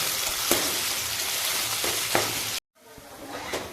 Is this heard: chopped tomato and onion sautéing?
yes